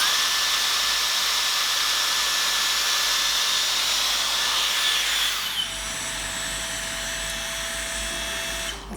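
A Dyson Airstrait straightener blows a steady, loud stream of hot air close by, with a high whine over broad hiss that shifts to a slightly different tone midway as the airflow or setting changes.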